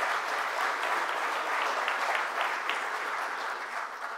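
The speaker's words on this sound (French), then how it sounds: "on peut les applaudir encore" Audience applause at a football fair-play trophy ceremony in Alsace, a steady, even wash of many people clapping throughout, easing slightly toward the end.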